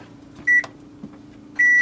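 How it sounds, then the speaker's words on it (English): A microwave oven inside an RV hums steadily while two sharp electronic beeps sound, one early and a longer one near the end, each loud and close against the low running drone. "I am actually a bit of a culinary wizard with the microwave"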